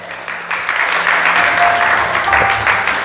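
A church congregation applauds during a French-language Sunday service for the Lord, a steady, fairly loud wash of clapping that swells in after a brief start and holds for a few seconds.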